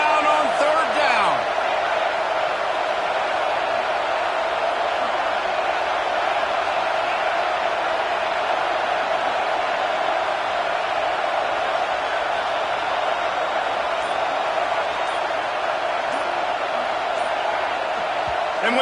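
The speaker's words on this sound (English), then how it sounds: "This crowd unhinged, trying to make sure the Gators don't back down on third down." Stadium crowd roaring on third down in the video game NCAA 26, a steady loud wall of cheering from the home fans, holding constant and unbroken throughout.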